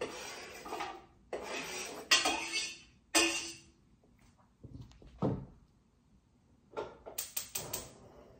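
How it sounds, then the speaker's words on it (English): Chicken soup ingredients are tossed into a cooking pot in several separate bursts, a loud clatter of clanking metal and tumbling food, with short pauses between and a final quick run of sharp clinks. "We will throw this all in the pot."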